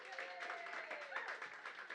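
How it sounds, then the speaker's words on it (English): An audience gives a performer a round of applause, the clapping blending into a continuous moderate wash of sound with voices mixed in. "everybody give a massive round of applause to Callum"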